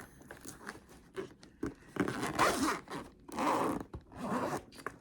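A zipper pulled shut along a fabric diamond painting storage case that holds jars of drills, with several quick rasping pulls close by and no voices.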